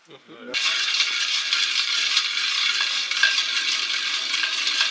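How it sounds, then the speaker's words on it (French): Cacao beans cooking in a pan while being stirred, giving a steady close sizzling, scraping hiss that runs continuously after a brief voice at the start. "Il est en train de cuire du cacao."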